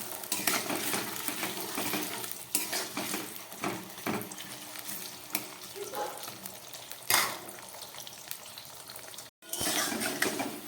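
Potatoes frying in oil in a pan over medium heat for a vegetarian potato curry, a continuous close sizzle broken by scraping and stirring clatters, with a brief dropout near the end.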